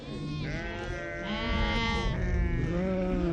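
Several sheep bleat loudly and continuously in the Atlas mountains, their wavering calls overlapping and swelling toward the end, close to the listener.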